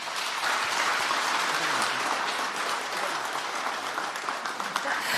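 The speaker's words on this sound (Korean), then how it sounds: "여러분 다시 한번 뜨거운 박수 부탁드립니다" A large crowd applauds steadily at a Korean Parents' Day ceremony, a dense, continuous wash of clapping that holds at an even loudness throughout.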